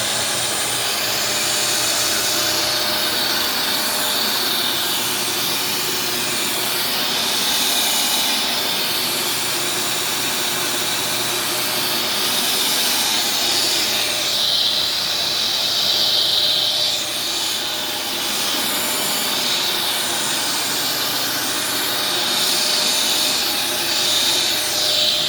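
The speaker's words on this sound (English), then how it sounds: "let's just do one pass on this side on gentle scrub" A vacuum cleaner on gentle scrub mode makes a steady loud hiss and airy whine for one continuous pass, close by, with the pitch rising and falling slightly as it moves and no talk.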